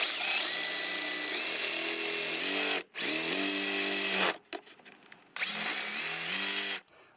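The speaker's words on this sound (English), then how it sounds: "So let's drill these out bigger." A power drill bores out and enlarges holes in a Jason Voorhees hockey-style Halloween mask, a loud steady whine in three bursts with brief pauses between them, spinning down at each stop.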